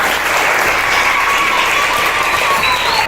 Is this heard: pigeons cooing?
no